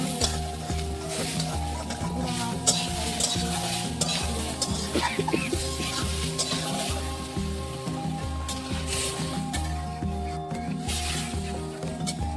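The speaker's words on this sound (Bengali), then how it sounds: "মা এখানে সয়াবিন রান্না করতেছে" Soybean curry cooking in a pan on a home stove, a continuous sizzle with scraping stirring strokes and clinks of a utensil, close and steady, with a faint low hum underneath.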